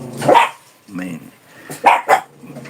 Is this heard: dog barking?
yes